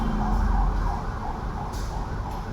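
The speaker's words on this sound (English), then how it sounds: "there's a big siren coming. Just wait. I can't mute this" An emergency siren passing outside a room, a faint wavering wail under steady background noise, with no one speaking over it.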